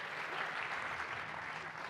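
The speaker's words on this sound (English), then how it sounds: "I would like you to give a round of applause to all our amazing panelists" Audience at a conference session on African innovation applauds its panelists, a dense, even round of clapping from a full room with no talk over it.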